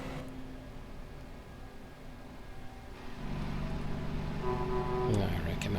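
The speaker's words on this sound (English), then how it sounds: "Not so sure I like this engine brake sound." Engine brake on a vintage truck with a Caterpillar 3406A diesel in American Truck Simulator: a low, rough rumble that swells and grows louder partway through and holds steady, with tonal whines above it.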